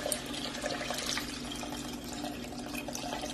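Lamb stock is poured into a cooking pot, giving a soft continuous splashing and trickling of liquid, faint and close.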